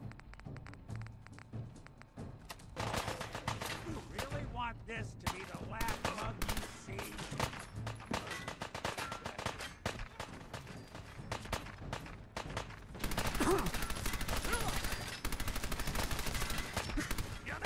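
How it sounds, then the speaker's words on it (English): Submachine gun fire in the video game Fallout 4, with rapid bursts of automatic shots crackling through much of the clip and growing louder near the end, a voice talking between bursts. "let me just go use my damn SMG"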